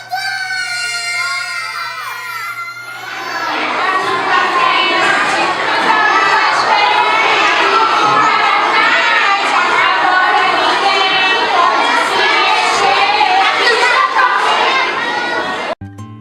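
A large crowd at a celebratory gathering roars out a battle cry together, a dense, loud, sustained wall of shouting voices lasting about twelve seconds after a brief musical lead-in, then cutting off abruptly.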